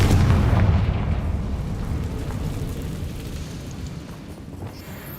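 A fiery Confringo spell blast from the Hogwarts Legacy video game erupts as a loud, deep rumbling explosion that slowly fades over several seconds, with no voices.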